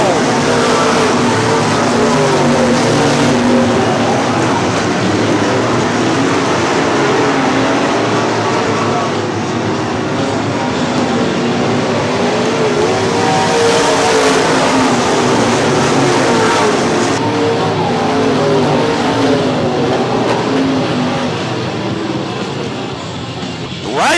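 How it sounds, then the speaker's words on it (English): Michigan Modified race cars run wheel to wheel at Cherry Speedway, a steady loud roar of several engines rising and falling as they pass through the turns, with commentary voices partly over it. "They're wheel to wheel out of turn 4."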